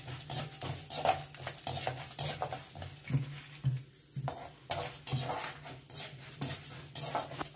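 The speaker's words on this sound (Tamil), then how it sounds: "ஸ்பூன் உளுத்தம் பருப்பு போட்டுக்கோங்க. அது கொஞ்சம் ஃப்ரை பண்ணிக்கோங்க." Urad dal fried and stirred in a pan for idli upma. A spoon scrapes and rattles against the pan in irregular bursts over a steady low hum, close and moderately loud, with no voices.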